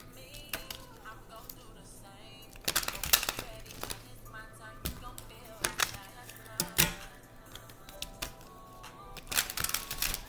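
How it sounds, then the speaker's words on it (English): Rapid bursts of crisp tarot card riffling and snapping, several shuffles in quick succession, close up, over a faint steady background hum. "Let me shuffle again."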